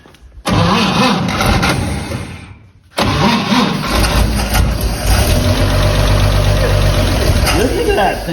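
A 1954 Chevrolet 3100 truck, parked since 1978, cranks briefly, pauses, then cranks again and catches into a loud rough idle up close, with voices speaking over the running engine.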